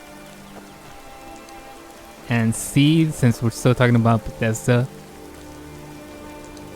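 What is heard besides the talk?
rain in video game Skyrim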